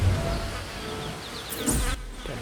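Bees buzz steadily in the video game Ancestors, a constant close insect drone with a brief louder swell near the end, no voices.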